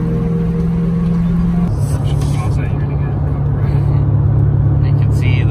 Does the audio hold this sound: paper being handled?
no